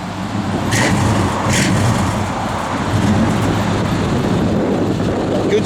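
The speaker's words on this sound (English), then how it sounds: "Give a little rev." A 1993 Chevrolet Silverado 1500 pickup engine runs steadily and loud up close, rumbling low with a slight rise in revs, broadband roar throughout.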